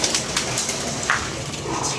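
Pigeons coo softly in a low, repeated murmur beneath a noisy, hissing background, with a few sharper clicks and rustles nearby; no one speaks.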